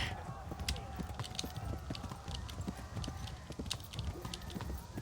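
Galloping horse hooves in the medieval action game Kingdom Come: Deliverance, a steady rapid clip-clop rhythm running throughout at moderate level amid battle noise.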